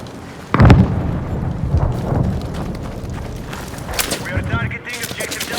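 Battlefield 6 gunfire during an Escalation match on a contaminated map: a sharp burst of shots opens, followed by a continuous rattle of distant and nearby firing under a player's voice.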